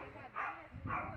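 A small dog at a country house gives two short, sharp yapping barks about half a second apart, fairly close and moderately loud.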